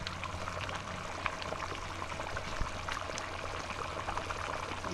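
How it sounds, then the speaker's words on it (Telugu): A pot of Pulasa fish curry at a rolling boil, its bubbling and popping running steadily up close with small irregular bursts and no talk. "భలే మరుగుతుందండి."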